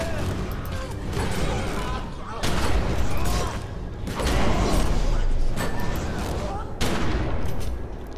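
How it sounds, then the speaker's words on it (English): Continuous gunfire from a never-reloading gun in the video game The Secret World, a dense rattling fusillade with bursts swelling and easing over several seconds, loud and busy with a voice underneath. "This is a gun that never needs reloading too."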